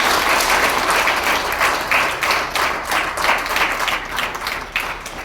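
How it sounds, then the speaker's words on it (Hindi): An audience claps loudly and continuously for the guests at a book release ceremony, with a dense, sustained patter of many hands and no talk. "तालियां"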